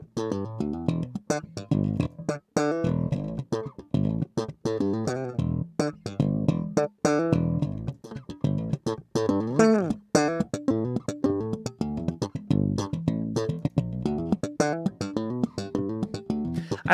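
Bass guitar through an Aguilar AG500 V2 amp plays a busy run of plucked and slapped notes with sharp percussive attacks and funky, uneven rhythm, close and fairly loud, no speech over it.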